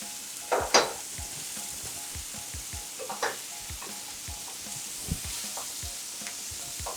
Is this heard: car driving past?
no